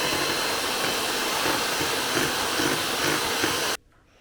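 An electric mixer whisking four eggs with sugar, a loud steady whirring drone held for nearly four seconds before cutting off abruptly, close by with no talk.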